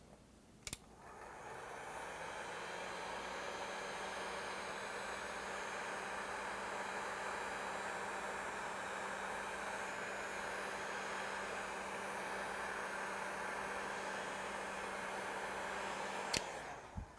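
A hair dryer blows steadily for about fifteen seconds to dry a freshly painted sky on a black canvas, a constant close whooshing hum with a click at switch-on and switch-off and no talking.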